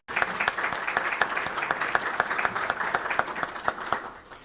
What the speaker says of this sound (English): especially Julie Ketzel, so please let's give her a round of applause.